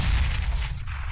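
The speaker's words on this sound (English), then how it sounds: "Are you ready for some explosions? Wait, I have a grenade." A grenade explodes in Counter-Strike: Global Offensive, a brief heavy boom with a rumbling low-frequency tail.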